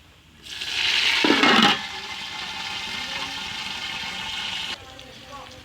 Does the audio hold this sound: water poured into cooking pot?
yes